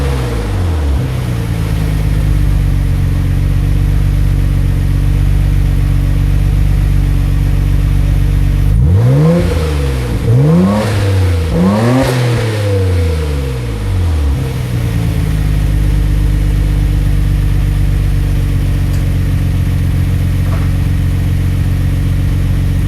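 A Nissan Skyline GT-R with its RB26 engine, a cat-delete downpipe and a Kakimoto resonator idles with a smooth, fairly subdued burble, then gets a few sharp revs that climb and fall back before settling to idle, loud and close.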